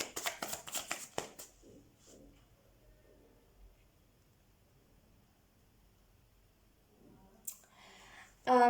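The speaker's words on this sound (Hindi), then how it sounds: "तो सबसे पहले हम कार्ड्स को कर लेते हैं शफल आपके लिए" Tarot cards are shuffled in a quick, close burst of papery riffling at the start, then fade to near silence before a few soft rustles near the end.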